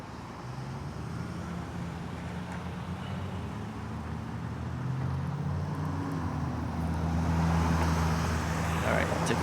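Street traffic heard from an electric bike waiting at a turn, a steady low rumble of cars that grows gradually louder, with someone speaking over it.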